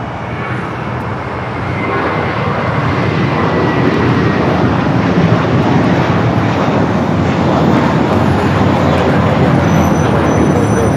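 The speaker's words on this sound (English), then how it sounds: "This is American Airlines 1589 taking off to Boston on the A321" American Airlines Airbus A321 taking off at LAX bound for Boston, a loud sustained jet engine roar building slightly and holding steady, broad rumbling wash heard from nearby without talk.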